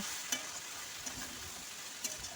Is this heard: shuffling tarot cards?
no